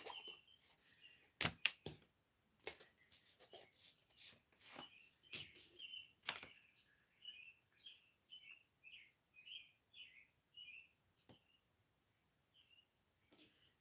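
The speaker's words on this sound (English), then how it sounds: "Can you hear the birds?" Birds chirp outdoors in short repeated tweets, a quick series of bright calls in the second half, faint and at a distance, with scattered clicks and handling knocks earlier.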